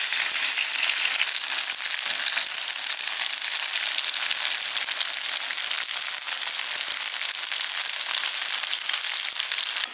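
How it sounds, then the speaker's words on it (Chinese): Square pieces of tofu pan-fry slowly over low heat, giving a steady, close, bright sizzle that holds evenly throughout with no talking. "几个面都可以给它煎一下，小火慢慢煎"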